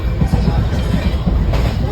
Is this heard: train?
yes